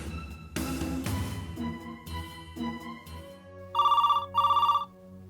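A telephone rings twice in short electronic bursts, loud and close, following a few moments of clattering background noise.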